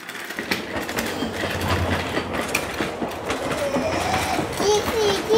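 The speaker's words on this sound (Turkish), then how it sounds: "Trenler yoluna devam etsin, hadi." Thomas and Friends toy trains roll along their track with rhythmic clicking and rattling wheel noise, close and steady, while children's voices and play sounds come through over it.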